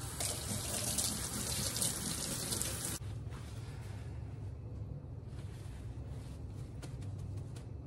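Tap water runs steadily into a sink while fresh organic basil is rinsed; the stream is loud and broadband at first, then drops to a softer, steadier flow after about three seconds, with no talking.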